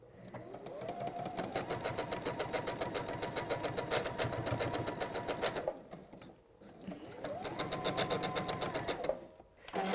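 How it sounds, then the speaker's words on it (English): A sewing machine stitches a quarter-inch quilting seam in a rapid, even mechanical chatter, running in two bursts with a short pause between them, close and moderately quiet. "And then just sew down that 1/4 inch again."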